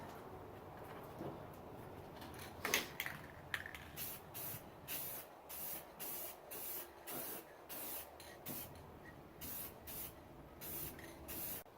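UV-resistant, non-yellowing gloss clear coat sprayed from a can onto a restored headlight lens, a series of close, rhythmic hissing bursts separated by short pauses after a few initial sprays.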